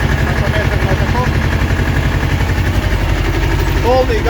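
A T-25 tractor engine drives a Bomet rotary tiller while working soil, held below full throttle; it gives a loud, steady, continuous rumble close by throughout, with faint squeaks near the end.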